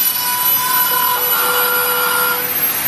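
A Dremel rotary tool carving a face into wood, giving a loud steady high-pitched whine and grind that runs continuously with slight changes in pitch, close up and with no talking.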